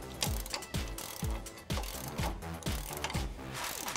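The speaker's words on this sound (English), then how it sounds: "we're gonna take a ratchet and a 21mm socket and just tighten that down" A hand ratchet with a 21mm socket tightens a flag nut on a Jeep Wrangler JK during a lift kit install, giving rapid repeated clicking strokes in bursts of about eight, loud and close with no talk.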